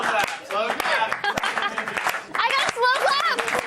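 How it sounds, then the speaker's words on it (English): A few sharp, spaced claps ring out in a slow clap from an audience, each hand strike distinct, while people keep talking in between and over them. "I got a slow clap."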